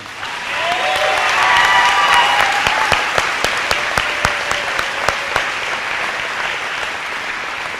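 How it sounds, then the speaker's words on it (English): A graduation ceremony audience applauds the graduates with loud, sustained clapping from a large crowd, with cheers rising over it early on and the applause holding steady to the end. "everyone in the audience should give these folks a round of applause right now"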